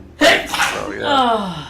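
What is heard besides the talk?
sneeze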